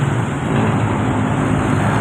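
Steady roar of road traffic heard from a footbridge over a busy road in De La Paz, Pasig City, at dawn, with cars, buses and trucks passing below as a continuous, fairly loud wash of engine and tire noise.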